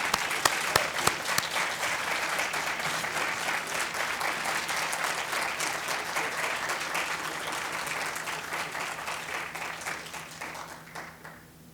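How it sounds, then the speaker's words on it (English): Sustained applause from a large audience, dense clapping that holds steady and then gradually fades out. "please give them a warm round of applause"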